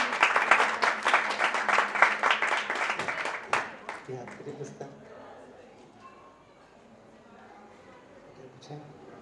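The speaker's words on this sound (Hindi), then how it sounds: "कृपया इनके लिए जोरदार तालियां बजाइए प्लीज" An audience at a talk in Nandurbar breaks into loud, dense clapping. The applause stays strong for about four seconds, then thins into scattered claps and fades to quiet murmurs.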